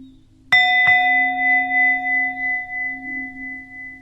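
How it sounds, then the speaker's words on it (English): Two meditation bells at a Zen practice session struck in quick succession, each leaving a clear, sustained metallic tone that rings on steadily and slowly fades, alone with no talk. "If you want to hear the bells, make sure your world volume is up."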